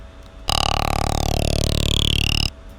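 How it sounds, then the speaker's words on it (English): A mouthy formant bass synth patch built in Serum, with a vowel-like growling tone that shifts over a single sustained note of about two seconds, loud and alone. "this formant knob, this is pretty much what a formant bass is"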